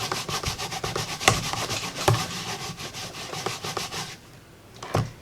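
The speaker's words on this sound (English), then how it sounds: "And now we're going to scrub this stamp off." Rubber stamp being scrubbed clean with Stampin' Mist, a steady near rubbing and brushing sound in quick repeated strokes, alone with no talk, briefly pausing before one last scrub.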